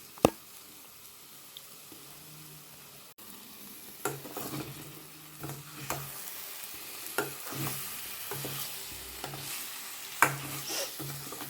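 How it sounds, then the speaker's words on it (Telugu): Masala with onion tomato paste sizzles in a pan for a kabuli chana and potato kurma, with repeated scraping stirs and soft squelches over a continuous frying hiss, close and moderately loud, without voices. "మనం ఉల్లిపాయ టమాటా పేస్ట్ కూడా వేసేసి కలిపేద్దాం"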